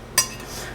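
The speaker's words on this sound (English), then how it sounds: "a canning ring at the bottom to give myself a little trivet" A metal canning ring set down in a pot on the stove gives a single short metallic clink, close and distinct, followed by quiet room tone.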